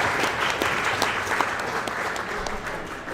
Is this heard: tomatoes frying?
no